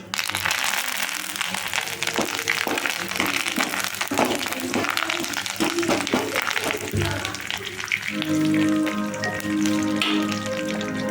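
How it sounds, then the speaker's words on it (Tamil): Onions, green chillies and macaroni sauté in a pan, giving a steady, loud crackling sizzle with tapping stirs; the texture shifts partway through as fresh ingredients go in. "இப்போ அது ஒரு வதக்கு வதக்குறோம்"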